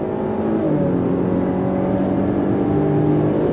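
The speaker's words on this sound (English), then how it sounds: "Let me slow down again and we're gonna go on throttle here. On throttle, here we go. Drops down and we're off and running." A 2022 Chevrolet Blazer V6 with a nine-speed automatic accelerates under throttle, producing a loud, steady engine drone from inside the cabin whose pitch climbs and then drops slightly as a gear shift comes through, with no talking.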